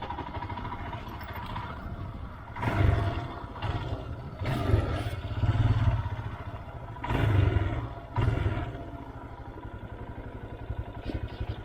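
Motorcycle ridden in second gear with the throttle eased open slightly, its engine roar swelling and dropping back in several loud surges over a steady running hum, no talking.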